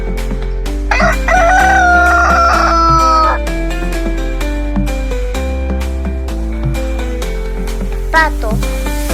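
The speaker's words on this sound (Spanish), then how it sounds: "Gallo." A rooster crows once, long and loud, near the start over a cheerful children's song with a steady beat, and a short squawk comes near the end.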